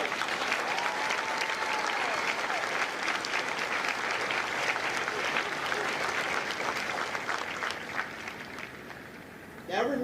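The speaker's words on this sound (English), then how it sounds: "join me in a round of applause for the officers, the drill instructors, and the families of Company K" A large audience at a Marine Corps recruit graduation for Kilo Company at MCRD San Diego claps in a sustained, dense round of applause, with a few voices and cheers mixed in before it tapers off.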